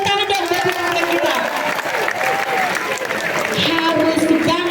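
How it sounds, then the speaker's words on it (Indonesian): An audience at a pesantren gathering claps and cheers throughout, with a lively mix of hands and voices and a voice speaking over the applause. "tepuk tangan dong buat pesantren kita"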